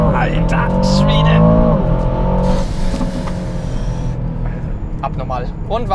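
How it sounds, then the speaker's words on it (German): An Aston Martin DBX 707 SUV launches from about 4000 rpm on a 0-100 km/h run, its engine roaring loud and close as it accelerates, with a brief tire squeal and gear changes, while a man exclaims over it. "Also linker Fuß auf die Bremse, rechter Fuß aufs Gas, 4000 Touren und los geht's."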